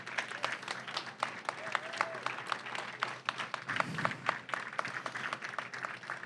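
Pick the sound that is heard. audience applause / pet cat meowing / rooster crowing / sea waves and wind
audience applause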